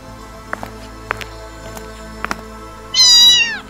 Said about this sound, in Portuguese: Ah, agora é só um gatinho aqui no teto de novo.